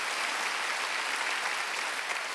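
A church congregation at a Korean Sunday worship service claps together in a continuous, even wash of applause, with no voices standing out.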